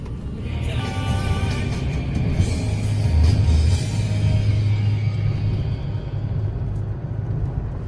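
Car crawling through heavy holiday traffic in Thailand, a steady low engine rumble inside the cabin that swells briefly in the middle and then settles, with no talking.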